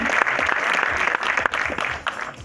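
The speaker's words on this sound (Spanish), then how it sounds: "Un aplauso para Liverpool." A crowd at the AUF 2018 Uruguayan football awards ceremony claps in a dense, lively burst of applause for Liverpool that fades slightly toward the end.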